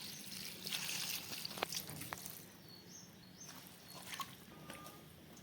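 Water trickles and pours as dhakai dom leaves are rinsed by hand, a soft, fairly faint running splash with light patter, faint bird calls in the background.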